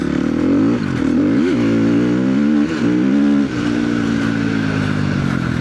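A KTM motorcycle engine revs hard and close, rising and falling in several sharp throttle blips before settling into a loud, steady high idle, with no talk over it.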